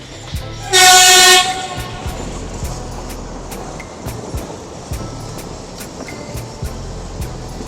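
The 125-year-old mountain railway train running from Ooty toward Coonoor: a loud, close horn blast for about half a second, then a steady low rumble of the carriages with faint rhythmic clacks of the wheels.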